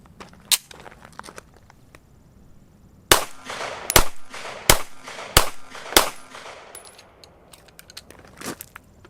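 Five sharp pistol gunshots ring out outdoors in fairly quick succession at a target, each a loud, close crack, with a few lighter clicks and knocks before and after.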